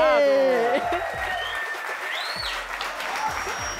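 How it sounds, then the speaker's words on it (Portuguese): Applause for a judge on a gospel singing competition show, a broad wash of clapping from the audience under music, with a sung or spoken voice running through the opening second. "Aê, palmas para o nosso jurado!"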